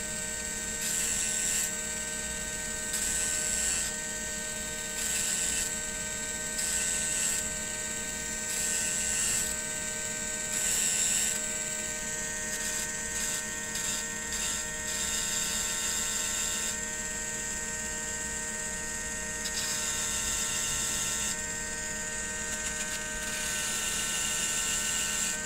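A small motorized tool gently sands a dragonfly or cicada wing bead, its steady whining hum broken by repeated short bursts of buzzing grind, with no voices.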